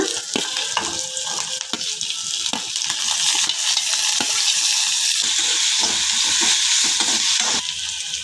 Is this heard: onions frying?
yes